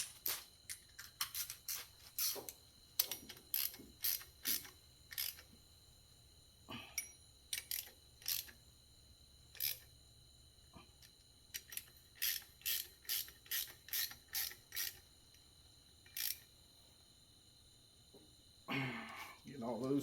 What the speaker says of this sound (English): we will tighten the bolts up in the middle